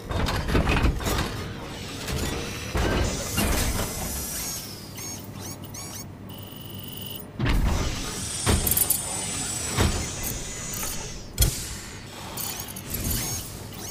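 Bipedal walker machine from Metal Gear Solid V powering up, with loud mechanical clanks, whirs and hydraulic hisses in bursts, a brief lull midway, then more heavy clunks and servo sounds.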